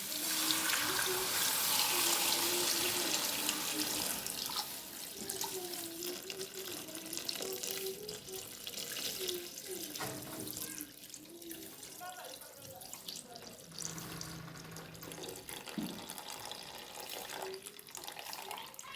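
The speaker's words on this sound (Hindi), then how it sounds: "ये यखनी मैंने शामिल कर दी इसके अंदर।" Mutton broth is poured into a pot of browned mutton trotters as a continuous, splashing liquid stream that runs throughout. A voice sounds faintly alongside it.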